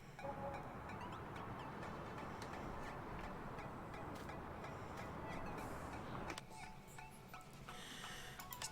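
Farm chickens in Farming Simulator 19 cluck and cackle as a dense, continuous flock chorus, fairly faint, with a brief dip and change in the background after about six seconds.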